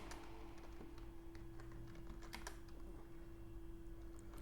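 Rapid clicking of a computer keyboard while code is typed for a web development project, an uneven stream of close, crisp key taps with occasional louder strikes over a faint steady hum.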